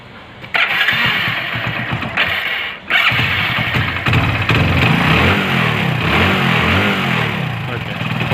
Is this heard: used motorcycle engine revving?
yes